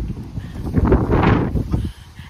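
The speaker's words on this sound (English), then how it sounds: "it's so windy" Wind gusts across an allotment garden plot, rising into a loud rushing buffet against the microphone midway and then easing off, with no talking.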